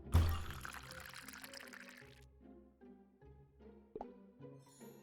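Water pouring in the Nancy Drew game, a quiet splashing gush for about two seconds that gives way to softer tonal trickling and drips.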